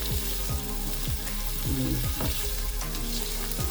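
Onions sauté in a pan with a loud, dense, continuous sizzle, punctuated by repeated short utensil scrapes and clinks as they are stirred, close up and without talk.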